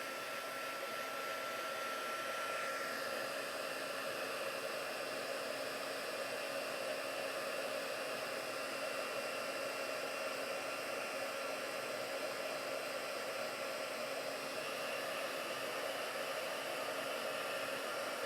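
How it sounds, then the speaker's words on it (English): Heat tool melting embossing powder on a card, giving an unbroken steady whoosh of blown air at an even, fairly close level throughout, with nobody speaking. "let me grab my heat tool and get that out of the way"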